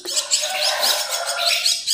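Young buffalo myna (jalak kebo) chirping, a run of rapid, high, raspy calls repeated close and fairly loud, with no voices over them.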